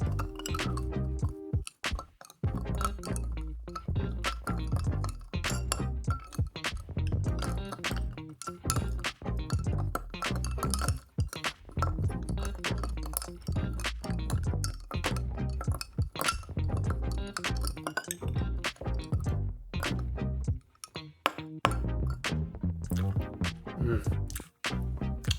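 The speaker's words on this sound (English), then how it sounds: "Stir it down over a nice big rock of ice" A bourbon cocktail stirred over a big clear rock of ice in a home bar, with steady, close glassy clinks and tinkles of spoon and ice ringing on and on, dense throughout, with some voice faintly underneath.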